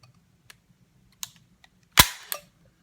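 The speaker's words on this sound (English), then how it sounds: "I'll decock it again" Sharp mechanical clicks from a Sphinx SDP Compact pistol with an Omega trigger being decocked: a few light ticks, then a loud metallic snap followed by a smaller click, close and isolated in a quiet room.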